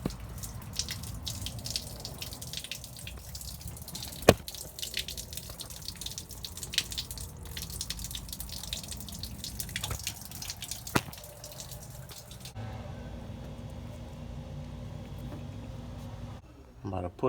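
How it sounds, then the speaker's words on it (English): Water drips and trickles steadily from a coolant leak on a Silverado SS LS engine under a low mechanical hum, with a few sharper splashes and someone talking now and then. "All the water that leaked out of there."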